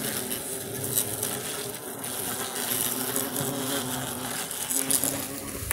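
Hornets buzzing inside their nest make a dense, continuous drone with irregular crackling and rustling, close and steady throughout, with no talk.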